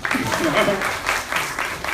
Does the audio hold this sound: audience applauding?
yes